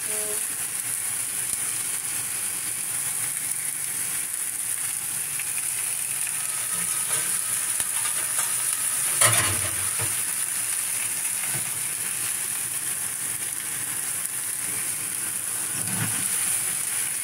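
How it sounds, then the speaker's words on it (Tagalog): Fish soup with potato and tomato simmers in a pot, a steady bubbling and hissing throughout, with a few louder pops and sputters standing out; no voices. "Tapos yun, kumukulo na siya guys."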